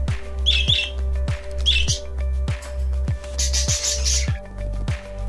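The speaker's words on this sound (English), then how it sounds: "Parrot, parrot, parrot." A parrot gives repeated short, harsh squawks and chirps in three or four bursts over a steady low electrical hum, with faint clicking throughout.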